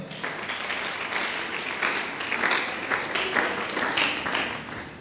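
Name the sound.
congregation applauding in church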